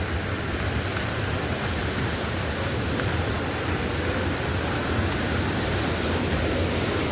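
A river flows with a dense, unbroken rush of water, loud and even throughout, with no voices or other sounds.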